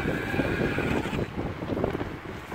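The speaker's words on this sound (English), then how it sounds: "It is quite windy." Wind buffeting the microphone while riding an e-bike with a TSDZ2 mid-drive motor. It is a loud, continuous rushing roar with gusty swells and no talk.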